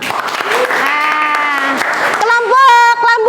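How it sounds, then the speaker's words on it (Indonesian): A class of schoolchildren applauds and cheers for their group in a classroom lesson, a loud sustained burst with voices shouting over the clapping. "Tepuk tangan dong"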